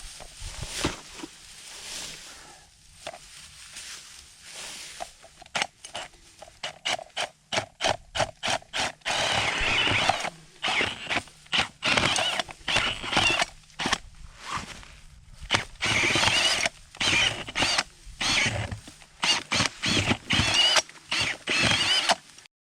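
A hand auger bores into grassy ground to dig a hole for a dirt-hole trap set, giving repeated scraping, creaking turns and crunching soil and roots in irregular close bursts, with no talking.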